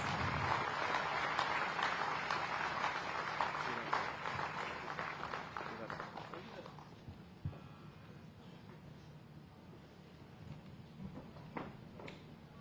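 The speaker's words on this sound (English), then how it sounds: "Huge round of applause." Audience applause at a university convocation ceremony, a dense, loud wash of clapping for about six seconds that gradually thins and fades into scattered claps and room noise.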